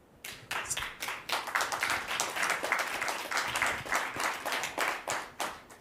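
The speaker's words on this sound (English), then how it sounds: "Not everybody applauds." Audience applause at an international security forum, a dense crowd clapping steadily for several seconds in a large hall, with no speech over it.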